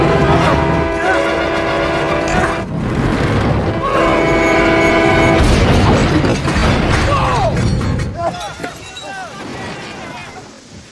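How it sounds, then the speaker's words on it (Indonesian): In a scene from the film Hancock, a train rushes forward with a loud, sustained roar while its horn blows in two long blasts, then the din gives way to screeching metal and crashing sounds. "Di saat yang sama sebuah kereta maju kencang ke arahnya."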